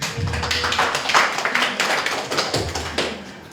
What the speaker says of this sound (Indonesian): Terakhir, puji Tuhan. Tepuk tangan dulu.